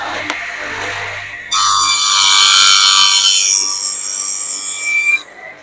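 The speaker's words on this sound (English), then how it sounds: "So this is our small spindle molder." A small spindle molder cuts a 4mm groove in a wooden cupboard piece, a quiet motor hum giving way to a loud, sustained high-pitched cutting whine for several seconds before it stops abruptly.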